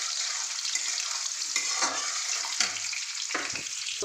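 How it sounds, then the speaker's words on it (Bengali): Potatoes frying in oil in a pan for a Bengali lote fish chorchori, a constant loud sizzle broken by occasional scrapes and stirs of a spatula, with no talking. "আলুটা আমি খানিকটা ভেজে নেব।"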